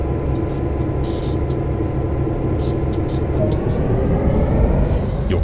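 A GP9RM diesel locomotive rumbles steadily in Train Sim World, its low engine drone and rolling rail noise continuous and close.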